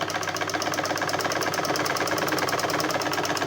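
A sewing machine stitching around blouse fabric runs in a fast, even mechanical chatter, close and continuous with a rapid regular pulse throughout, no voices.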